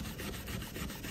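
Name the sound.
steel wool scrubbing layers off an artwork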